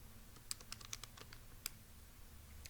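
Buttons on a calculator tapped in quick irregular bursts to enter values, light faint clicks close up in a quiet room.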